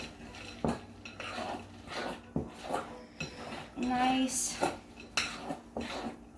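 Chocolate chips stirred into thick cookie batter in a mixing bowl, a spoon clanking and scraping against the bowl in an uneven rhythm, close and fairly loud, with a brief word spoken partway through.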